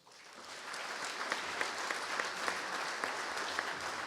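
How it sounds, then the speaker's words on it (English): Hall of fame induction crowd applauding an enshrinee, a sustained, even wash of clapping that swells in after a brief start and stays steady, heard from some distance in a large room. "Please welcome to the St. Louis Sports Hall of Fame with your applause, Tom Lombardo."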